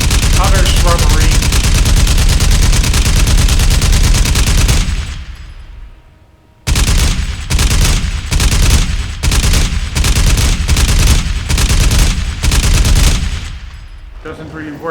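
Gunfire in Crysis Remastered, sustained loud automatic bursts fired close by, a sharp break in the shooting, then rapid repeated volleys through jungle shrubbery, with a voice talking underneath.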